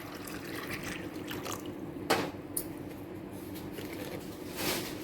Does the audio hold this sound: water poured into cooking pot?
yes